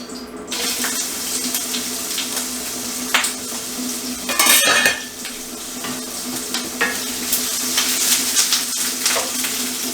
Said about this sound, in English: Alright, our oil is ready. Let's put our onions in.